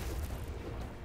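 A deep, rumbling cannon boom from a pirate ship battle in the game Blazing Sails, a single sustained, heavy low blast that fills the short moment without any talking.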